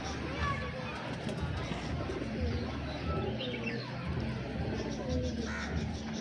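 Pigeons at a loft cooing, soft repeated low coos continuing throughout under a steady ambient rumble, with occasional brighter chirps and a person speaking nearby.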